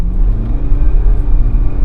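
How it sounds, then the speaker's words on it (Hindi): A high-mileage BMW 320d diesel sedan with about 205,000 km accelerates hard in normal eco mode, its engine note rising steadily and loud close by with a continuous low rumble and no talking. "और देखो इसका पिकअप"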